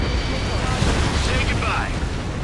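In Ace Combat 7, a jet's missile launches and a target explodes in a dense, roaring rush of wind and blast noise that holds steady and loud throughout, with no clear voice on top.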